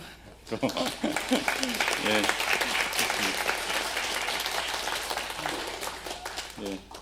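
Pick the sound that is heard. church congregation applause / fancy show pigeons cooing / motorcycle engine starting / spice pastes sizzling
church congregation applause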